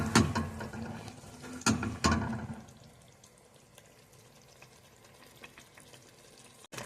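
Okra soup with pepper and onions being stirred in a pot, giving a few sharp scraping and clattering strokes at the start, followed by a quieter sizzling simmer with faint clinks, close by.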